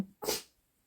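A child sneezes once, a short sharp burst of breath close to the microphone indoors, followed by quiet.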